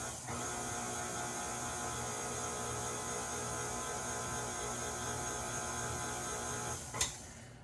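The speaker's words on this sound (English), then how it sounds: "put it in the mixer with the dough hook, mix it slowly to incorporate all the ingredients" Stand mixer with a dough hook slowly kneading sourdough bread dough, a steady motor hum and whir running continuously and fairly loud, with one brief sharp click near the end.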